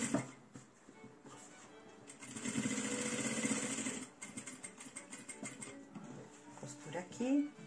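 Sewing machine stitching the reverse side of a fabric mug rug, a steady mechanical run of a few seconds at moderate level, with someone talking through it.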